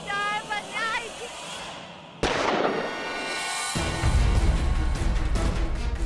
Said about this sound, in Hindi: तुमने गोली चलने की आवाज सुनी?